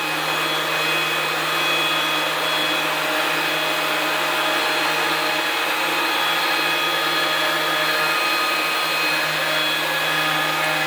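A CNC machine cutting a granite countertop gives off a continuous, loud, steady whine and grinding roar that holds unchanged throughout, with no voices.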